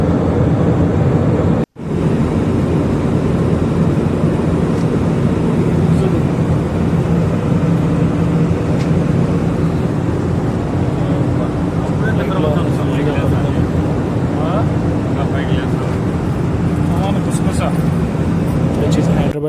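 Airplane cabin drone on approach to Hyderabad, a steady loud low rumble of engines and airflow that runs throughout, broken once by a brief dropout near the start.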